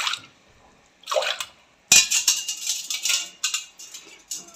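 Water poured into milk in a home kitchen, short splashing pours in bursts with a clink of a vessel, close and clear with no talk.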